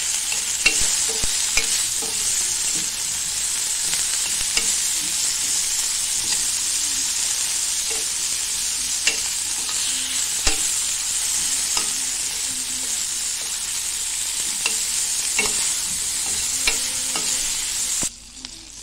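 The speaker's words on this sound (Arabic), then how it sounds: "خليتهم حتى تشحروا مزيان وكتخليهم يتقلاو" Food frying in a pot until browned, seasoned with a little salt and spices, gives a loud continuous sizzle with frequent sharp pops and crackles and occasional stirring; no one speaks.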